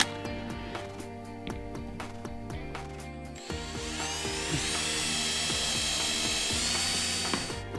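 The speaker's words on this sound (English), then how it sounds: "See if I can get the first hole drilled." A power drill bores a hole in a teardrop trailer door, loud and close, with ratcheting clicks and mechanical whirring that shifts to a higher, steadier grinding whine midway.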